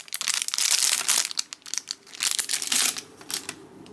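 A factory-sealed pack of 1991 baseball draft trading cards is torn open, close crinkling and crackling wrapper bursts in irregular handfuls over about four seconds, no talk.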